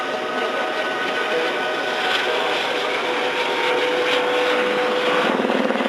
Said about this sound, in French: Cet hélicoptère a une particularité.